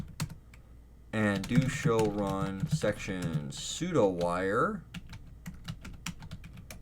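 Rapid keystrokes on a computer keyboard tick steadily throughout while someone talks over them, entering network router configuration commands, with the clicks continuing alone after he stops.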